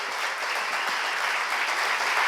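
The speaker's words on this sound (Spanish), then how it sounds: "Dale el aplauso fuerte al Rey de Reyes," Church congregation applauding in praise, a dense, even wash of clapping that holds steady and swells slightly toward the end.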